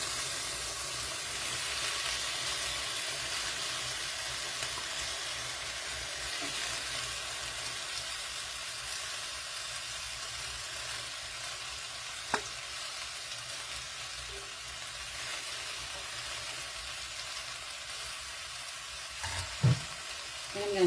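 Washed, chopped small cabbage fries in a skillet, a steady broadband sizzle running the whole time, with a few faint clicks and utensil knocks near the end.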